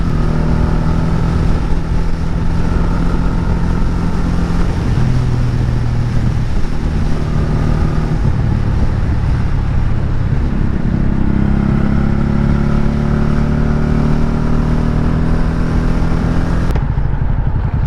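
Honda Shadow motorcycle engine running, a loud, continuous V-twin rumble with shifting tones as it revs and settles, close up and alone, cutting off abruptly near the end.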